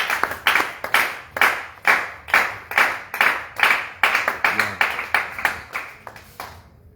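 A church congregation claps in unison to acclaim Jesus, sharp claps landing about twice a second in a steady rhythm that stays close and strong throughout.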